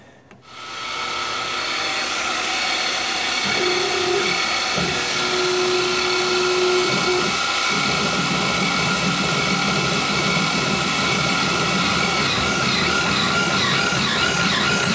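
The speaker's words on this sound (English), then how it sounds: "this is a big drill to be running without a pilot on this mill" A large drill bit bores into a workpiece on a Grizzly G0704 mill with no pilot hole, a loud steady grinding whine with tonal squeal that starts after a second and holds constant, close and alone.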